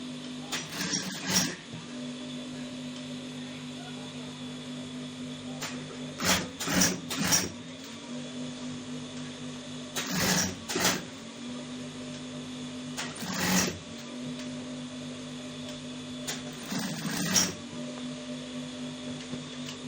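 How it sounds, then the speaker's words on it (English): A sewing machine stitches a V-neck on a senator top from the back, running in short whirring bursts of a second or so over a constant low mechanical hum, with pauses between runs. "We're sewing it from the back."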